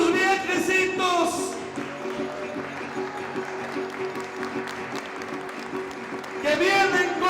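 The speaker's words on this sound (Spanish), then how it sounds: "¡Aplauso a estos viejecitos!" Audience applause for a group of elderly dancers in the Potosí highlands, a steady, diffuse clapping that runs under sung verse, with the singing voice coming in clearly at the start and again at the end.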